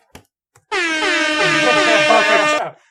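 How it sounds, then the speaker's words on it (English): A loud, sustained air horn blast with a rich, brassy tone, lasting about two seconds before cutting off abruptly. "Air horn."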